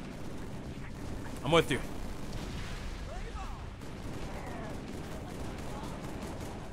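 Gunfire and a burst of explosive shots in the video game Halo 3, modded, heard over steady game noise with a louder blast near the middle while a player talks briefly.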